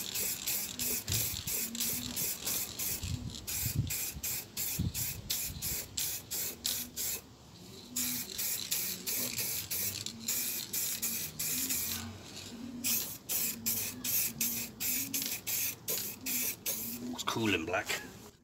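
Repeated hissing bursts of an aerosol spray can painting a Mandalorian helmet outdoors on a sunny day, steady sprays separated by short pauses and near the microphone, with a rattling sound partway through.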